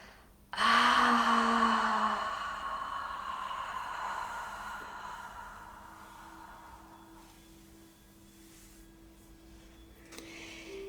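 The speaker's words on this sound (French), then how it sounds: "Et expirez, relâchez par la bouche." During a guided new-moon meditation, a person exhales through the mouth in one long, soft breath that swells suddenly and then slowly fades, close and quiet, with a faint tone lingering afterward.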